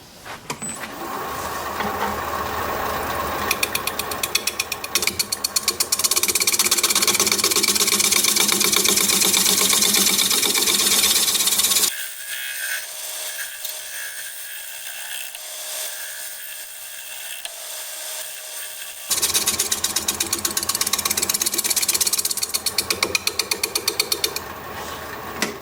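A scraper cuts into sycamore wood spinning on a lathe, a continuous loud buzzing scrape over the motor's hum that drops to a quieter, thinner rasp midway, then returns at full intensity.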